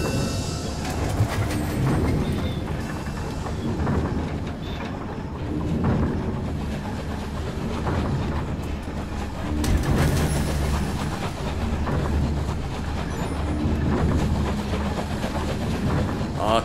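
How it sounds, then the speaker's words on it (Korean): A running train rumbles in the video game Night in the Woods. The low mechanical roar is steady and continuous, with rattling clatter and occasional louder surges throughout. "아, 달리는 열차이구나."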